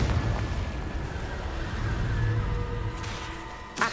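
A Confringo fire spell detonates in the Hogwarts Legacy game, a loud, sustained booming blast with a rumbling roar that carries for several seconds before a fresh burst at the end.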